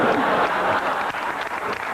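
Studio audience applause for comedian Dane Cook on a comedy panel show, a steady, fairly loud wash of clapping that holds for the full two seconds, with no clear voices.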